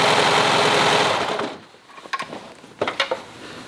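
A serger stitching a lined tank top seam and trimming the fabric allowance runs at a loud, steady whir for about a second and a half, then stops, leaving scattered clicks and light handling sounds.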